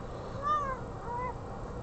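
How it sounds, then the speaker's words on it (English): A house cat gives one clear meow, then a softer shorter one, close to the microphone over quiet room noise as it is being moved. "Just a second, I'm gonna move the cat."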